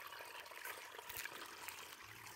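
River water runs through an open irrigation ditch feeding garden beds on a rural plot, making a faint, steady trickling flow with no voices.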